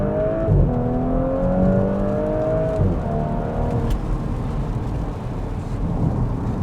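An Audi S4 B9 accelerates hard through the gears, its engine note climbing and dropping at each shift over a steady low rumble of road and cabin noise.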